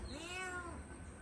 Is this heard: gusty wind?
no